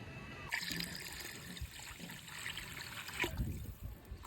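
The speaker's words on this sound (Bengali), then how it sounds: "পরিমাপ মতো পানি দিলাম" Water trickles and splashes into a cooking pot as a measured amount is added to a Bangladeshi dish, a short, close, moderately quiet pour with a louder splash near the end and no speech.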